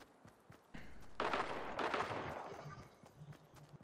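Gunfire in the video game Fortnite near a barn: bursts of shots with a loud, dense stretch in the middle that trails off into scattered game noise.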